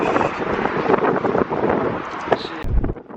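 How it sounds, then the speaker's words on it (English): Strong wind buffets the microphone outdoors at a car meet, a constant loud roaring rush with gusty swells that fades out near the end. "This shit windy as fuck"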